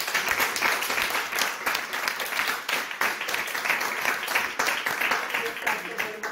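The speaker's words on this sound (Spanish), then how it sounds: "vamos a dar las gracias a Edwin con un aplauso" Audience applause thanking Dr. Edwin Genaro Bravo after a talk on spiritual support for mental hygiene, a steady wash of many hands clapping at moderate level for several seconds with no speech over it.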